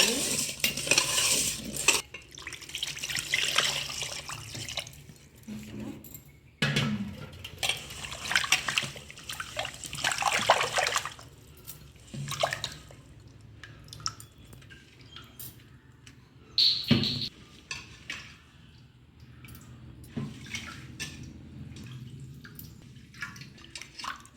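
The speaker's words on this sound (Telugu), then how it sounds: "ఇంకొకసారి కడుక్కుందాం బాగా నీట్గా ఇదిగో ఇలా బాగా శుభ్రంగా కడుక్కోవాలి" Raw fish is scrubbed clean with rock salt and water in a bowl, giving wet sloshing, splashing and dripping in uneven bursts separated by quieter stretches.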